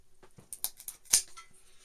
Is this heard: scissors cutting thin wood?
yes